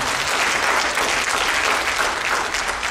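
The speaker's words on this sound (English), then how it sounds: "Give him a clap, please." Audience applause for a dancer at a family dance show finale, a dense, steady wash of clapping from a crowd that holds at full level for about three seconds with no voices standing out.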